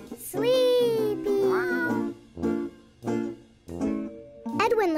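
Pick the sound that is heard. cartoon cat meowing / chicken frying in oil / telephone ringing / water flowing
cartoon cat meowing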